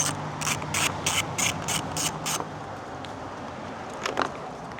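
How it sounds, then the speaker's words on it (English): A ratchet loosening a single Torx bolt on the shroud of a 2013 third-generation Ford Focus, with a quick run of about eight clicks followed by a few softer clicks later; no talking. "just take off this one bolt on the shroud"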